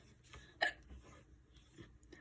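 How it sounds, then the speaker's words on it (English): A single soft hiccup breaks a quiet moment while someone is drawing a crab, a brief close vocal hitch standing out against near silence with faint scratching around it. "I'm sorry, but I have the hiccups."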